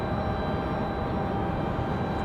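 Jet airliner taking off from runway 23 right at Raleigh-Durham airport, bound for Newark: a steady, broad engine roar that holds level throughout, distant but full, with no talking.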